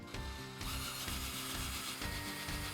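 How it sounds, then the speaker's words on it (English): A small handheld drill whirs steadily for a few seconds while building a top-down camera rig, the motor drone close and continuous with faint ratcheting texture. "Grab my little drilly drill here."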